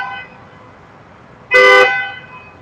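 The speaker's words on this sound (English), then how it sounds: "We started out with a couple of honks here and there, and then as more and more cars started to arrive, the situation got worse." A single car horn from a driverless car in a parking lot at night sounds one short, loud, bright honk after a quiet stretch of faint background.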